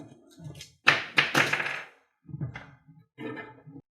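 Two plastic Transformers Starscream toy blasters are snapped together. A few sharp clicks and thunks land close together near the middle, with softer plastic knocks before and after.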